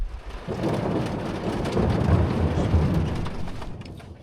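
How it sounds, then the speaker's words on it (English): A low, rolling rumble of distant thunder over steady rainfall, building slightly before easing off. "I hear a lot of thunder off in the distance."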